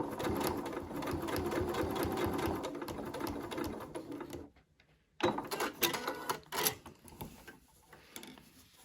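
A sewing machine stitches steadily along a seam of a Liberty London Bella tea dress in a fast mechanical rattle, pauses briefly, then resumes in shorter bursts.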